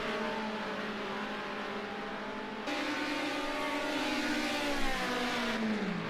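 BMW 2002 race cars from 1973 racing at Melbourne in the Project Cars 2 video game, a sustained loud engine drone with rising and falling revs as cars shift gears and brake into a corner, no talk.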